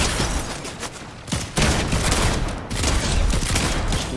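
Sustained rapid gunfire in Fortnite, shooting down a player's build, loud and dense with continuous cracking shots and brief breaks.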